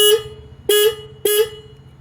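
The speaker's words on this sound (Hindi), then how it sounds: "हॉर्न अगर आप देखोगे बजा के तो कुछ खास नहीं है" A Royal Enfield Shotgun 650 motorcycle horn gives three short, evenly spaced honks, each a loud, flat, buzzy tone, alone and close.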